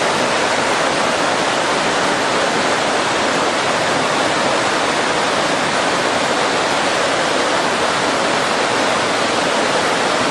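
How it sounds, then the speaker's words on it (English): Waterfalls near a hotel in Switzerland give off a steady, full rushing roar, unseen but loud and unbroken, with no talking over it. "Waterfalls by the hotel. Can't see them, but you can hear them."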